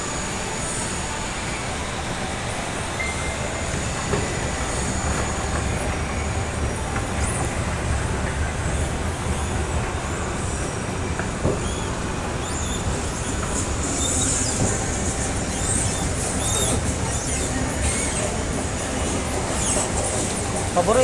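Rumbling roar of a train running past at a station with escalators, steady and loud with some high wheel squeal, mixed with background crowd noise and voices.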